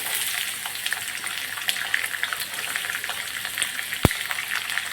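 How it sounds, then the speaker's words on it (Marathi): Chopped onion frying in oil in a home kitchen pan, a steady bright sizzle with a loud clatter near four seconds, no voices. "तर आता कांदा टाकूया"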